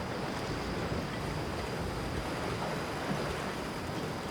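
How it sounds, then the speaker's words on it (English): Sailboat bow slapping and splashing through waves in the Virtual Skipper sailing game, a steady loud wash of surf and spray with wind rushing across the whole stretch, no voices. "When the bow hits a wave and it splashes like that"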